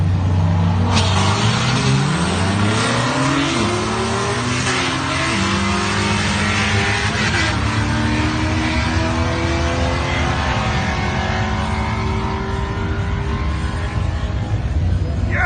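Drag racing car with its exhaust removed making a quarter-mile pass, loud raw engine roar climbing through several rising gear sweeps, continuous and close with no talking.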